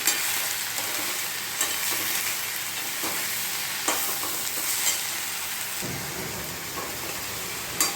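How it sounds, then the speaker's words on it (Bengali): A spoon stirring salted fish curry with vegetables, turmeric and salt in a hot pan, a steady close sizzle broken by occasional scraping knocks. "দিয়ে একটু নাড়াচাড়া করে নিই"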